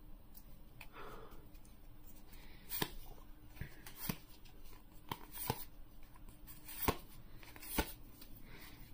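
Pokemon Astral Radiance trading cards are handled quietly up close, with soft flicks and sharp snaps of cards being pulled and shuffled at an uneven pace under faint breathing.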